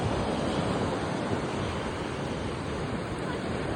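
Ocean waves wash steadily onto Candolim Beach in North Goa, a broad continuous roar of surf with some wind buffeting the microphone, with no clear breaks or distinct individual crashes.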